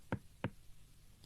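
A doctor raps twice on a patient's back like knocking on a door, two sharp, close hollow knocks about a third of a second apart, followed by quiet in a cartoon scene.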